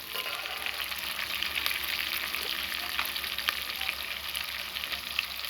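Whole spices and curry leaves crackle in hot oil for a rustic village-style spiced rice with cauliflower, a steady close sizzle with scattered sharp pops, without any voices.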